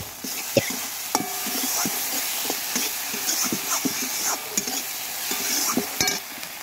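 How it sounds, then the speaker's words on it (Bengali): Raisins frying in oil in a pan, stirred with a steady scraping rhythm over a continuous close sizzle, with occasional sharper knocks of the spoon against the pan. "এখন আমি নেড়ে নেব। এখন দিয়ে দেবো বন্ধুরা কিশমিশটা।"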